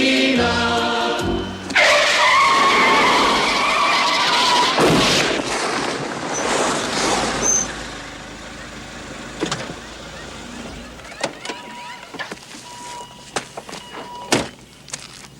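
An old, troublesome car is heard in a series of loud, close sounds: a heavy thunk, mechanical whirring and scraping, then scattered knocks and clicks tapering off into quieter moments.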